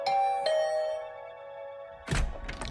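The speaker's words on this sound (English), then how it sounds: "I had just returned to my room when the doorbell rang." A video game doorbell rings out a clear two-note ding-dong chime that lingers and fades. A dull thud follows near the end.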